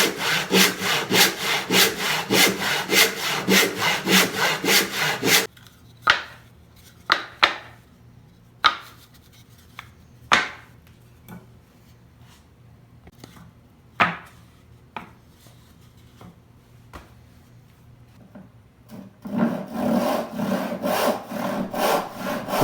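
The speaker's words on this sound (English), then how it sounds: "I've actually posted another video of me sawing this entire board start to finish" A hand saw resaws a wooden board with fast, rhythmic rasping strokes up close, then pauses for a quiet stretch of scattered knocks and taps before the steady sawing starts again near the end.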